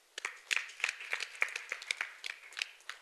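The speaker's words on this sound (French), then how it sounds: "je voudrais qu'on applaudisse très fort ici" An audience at a school ceremony in Goudiry claps for the school director, a fairly quiet round of scattered hand claps that keeps going steadily from start to finish.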